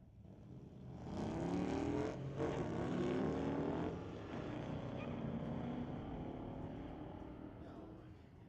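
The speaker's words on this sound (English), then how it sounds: "Solid launch for CJ Hookham." Street-legal drag racing at Mission Raceway Park: a 2010 Dodge Challenger and a Pontiac launch side by side, a loud sustained engine roar swelling after a second and carrying on for several seconds as the cars pull away.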